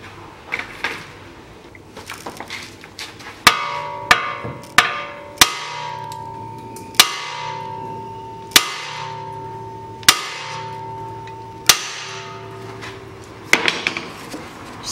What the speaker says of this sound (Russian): Попробую ее просто отстучать здесь. Надеюсь, что выйдет.